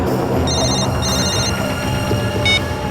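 A telephone rings close by in repeated short electronic bursts, over a steady background rumble.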